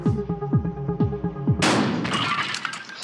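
A shotgun blasts in Buckshot Roulette: after a series of rhythmic mechanical clunks comes a single loud, sharp shot that sends up a crackling, debris-filled burst lasting over a second.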